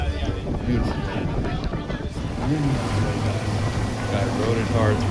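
A boat pounds hard through strong wind on open water off Maui, with steady engine drone, hull slap and gusty wind buffeting the microphone throughout.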